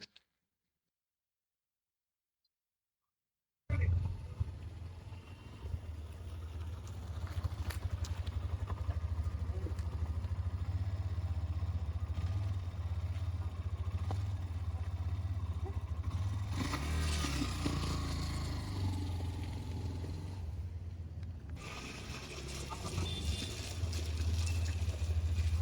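A motorcycle engine runs steadily at close range for most of the clip, a low continuous rumble with slight swells, following a brief silent start.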